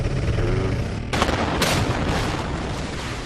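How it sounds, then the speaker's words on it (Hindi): Controlled demolition blast bringing down the 32- and 30-storey Supertech Twin Towers in Noida: a sudden loud boom at about one second, then a second sharp crack and a sustained rumbling roar. "धमाका होगा और ये ट्विन टावर जमींदोज हो जाएंगे।"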